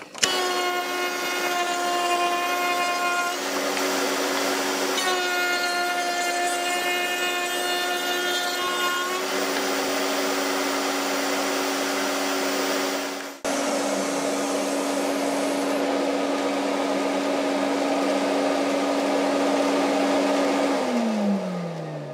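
A power saw cuts away the overhanging wooden edge on both sides of a homemade depth stop, a steady high whine with strong harmonics running almost continuously, briefly pausing midway, then winding down near the end.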